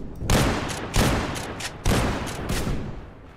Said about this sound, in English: There's a shotgun for this game.